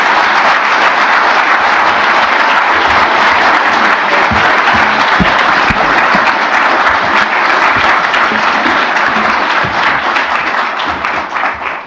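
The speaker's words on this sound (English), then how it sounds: "So with your very warm applause, would you please welcome to the stage President Ferdinand Marcos." An audience at a CSIS forum gives warm applause welcoming Philippine President Ferdinand Marcos to the stage. The dense, loud clapping is sustained for around twelve seconds and tapers off at the end.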